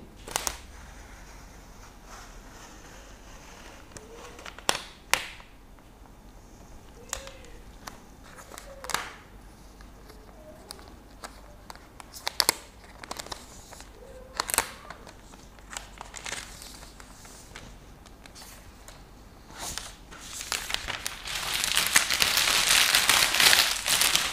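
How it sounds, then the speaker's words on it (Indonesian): Plastic wrap peeled off a 2019 MacBook Pro 16-inch during unboxing, heard as close, sharp crinkles and crackles in scattered bursts, ending in a sustained rustle of plastic. "Selanjutnya, kita akan membuka plastik yang ada di MacBook Pro ini."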